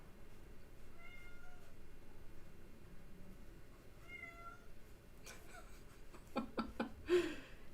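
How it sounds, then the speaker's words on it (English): A bored pet cat yowls out in a hallway, a few faint, distant meows spread through a quiet room, with some louder bumps and rustles near the end. "I don't know if you can hear my cat yelling in the hallway."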